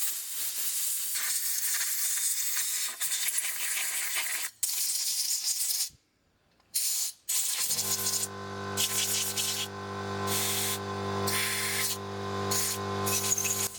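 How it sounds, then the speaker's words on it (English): Compressed air is blown through a Dellorto PHBL carburettor from a trials bike, giving loud hissing bursts broken by short gaps, then a steady tonal hum beneath the continuing rushing air. "Now everything's deassembled, it's ready to clean and blow out the carb."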